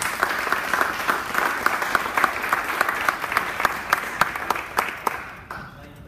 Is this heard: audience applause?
yes